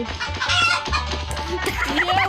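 Chickens cluck and squawk repeatedly in the video game Stickman Party over a busy game soundtrack with low rhythmic music, close and fairly loud.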